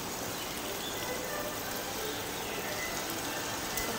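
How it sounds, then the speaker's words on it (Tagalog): Heavy rain pours in Taichung, Taiwan, a dense, even hiss of moderate loudness filling the whole stretch without pause. "lakas ng ulan."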